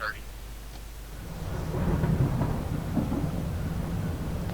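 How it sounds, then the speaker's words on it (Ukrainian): Thunder rolls through a thunderstorm in the emergency-dispatch video game 112 Operator, a low, sustained rumble that swells after the first second and stays loud and steady, with rain-like wash above it. "Гроза, ну понятно."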